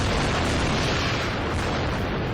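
Gaza City's tallest tower is brought down by an explosion, heard as a loud, sustained broadband roar and rumble that fills the whole clip without letting up.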